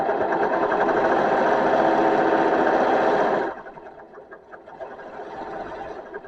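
A serger stitching a rolled hem on cloth Thanksgiving napkins, a steady fast mechanical whir running loud and close for a few seconds before stopping abruptly, followed by quieter handling noise.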